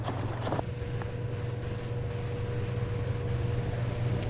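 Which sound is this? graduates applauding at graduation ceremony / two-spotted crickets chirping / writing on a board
two-spotted crickets chirping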